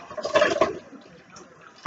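Water pours into a cooking pot in a home kitchen, a short splashing burst near the start that fades into quiet room noise, with a brief sharper sound at the very end.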